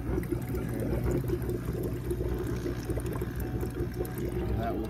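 Water trickles and pours steadily through the grow channels of a riverponics deep-water aquaponics system, a soft continuous flow heard close by.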